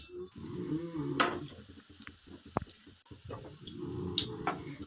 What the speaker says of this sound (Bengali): তেল গরম হয়ে গেছে একটা একটা করে এই রকম করে বড়া ভেজে নিচ্ছি